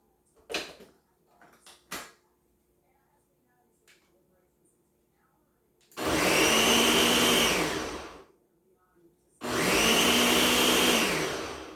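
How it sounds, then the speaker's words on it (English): A blender whirs loudly in two sustained bursts of about two seconds each, separated by a short pause, after a few soft kitchen clatters. "So we're gonna just throw everything in the blender."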